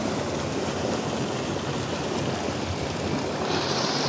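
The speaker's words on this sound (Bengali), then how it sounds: "এদিকে ব্যারেজের জল পড়ছে, বেরোচ্ছে, দেখায় একটু। এভাবে জল বেরোচ্ছে।" Water pours out of a river barrage in a steady, dense roar of rushing flow, continuous and fairly loud throughout with no voices.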